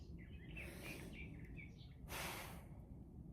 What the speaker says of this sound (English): the birds, do you hear them?